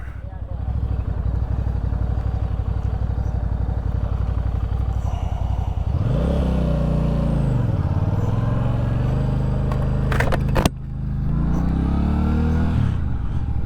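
Benda motorcycle ridden up close, its engine droning steadily before two rising and falling revs, with a brief clatter between them, loud throughout.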